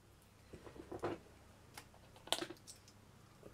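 Structure strips are trimmed off a handmade miniature gypsy caravan model, giving a few soft, sparse snipping clicks close by with quiet pauses between them.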